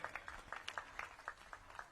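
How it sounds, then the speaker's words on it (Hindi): A small audience claps a welcome for Narendra Modi at a Chhattisgarh political event. The applause is faint and scattered, with a few distinct claps repeating over a moment and no one talking. "आप नरेंद्र मोदी जी का तालियों से स्वागत करें"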